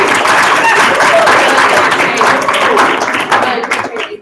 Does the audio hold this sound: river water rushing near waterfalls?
no